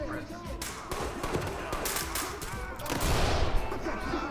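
Gunfire rings out in the tactical shooter Ready or Not, a rapid series of sharp cracks and bursts over a noisy background while players talk excitedly.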